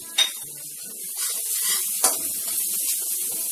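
Turmeric and Kashmiri red chili powder hitting hot oil in a pan for a besan jackfruit sabzi, a close steady hiss and sizzle with a couple of sharp crackling spikes as the spices are added and stirred.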